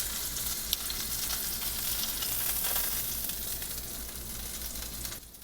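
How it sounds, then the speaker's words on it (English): Pork tenderloin with a Memphis BBQ dry rub sears in a hot pan, giving a close, continuous hissing sizzle that fades slightly near the end, with no voices. "And we'll sear the other one for another minute."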